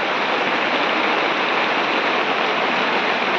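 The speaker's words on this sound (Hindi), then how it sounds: "देखिए बारिश का मौसम, हम बैठे इस टाइम अपनी दुकान के बाहर।" Rain falling steadily outside a shop, a dense, even hiss of downpour, loud and close, with no break or other sound over it.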